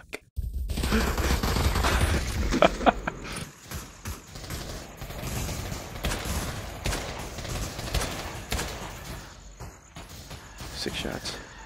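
Gunfire in the VR video game Pavlovian, with a dense battlefield of scattered shots and bursts, some near and sharp and others distant, running steadily under occasional voices.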